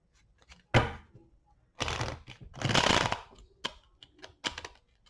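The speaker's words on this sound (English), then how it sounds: "One more shuffle." Tarot cards being shuffled by hand in a few quick bursts of riffling and rustling, with short pauses and light taps between them, close and fairly quiet, with no talking.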